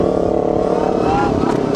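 Tork Pro Sport electric motorcycle on a 44-tooth rear sprocket and 420 chain, lifting into a wheelie: a steady, loud broadband whir and wind rush throughout, with a faint rising electric whine near the end.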